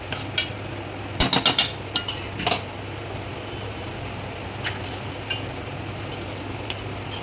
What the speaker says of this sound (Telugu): దీంట్లోనే ఈ కొబ్బరి తురుము వేసేసుకొని బాగా కలుపుకోవాలండి